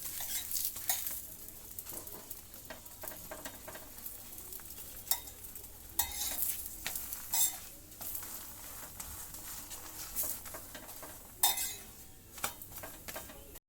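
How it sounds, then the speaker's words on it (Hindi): Paratha frying in a little oil in a pan, pressed down repeatedly; soft sizzling under irregular clinks and scrapes of the utensil against the pan, fairly quiet and close, with no talking. "इसको हम थोड़ा सा तेल डाल के इसको फ्राई करेंगे। और इसको भी ऐसे ही दबा दबा के फ्राई करना है"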